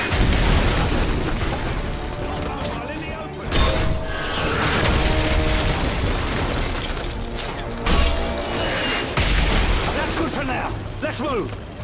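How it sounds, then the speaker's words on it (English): Mortar shells fire and explode during a Call of Duty Modern Warfare 3 sniper mission on Veteran, with dense rolling booms, bursts and debris over continuous battle noise and heavy low rumble, several sharp blasts standing out. "Keep burning the mortar!"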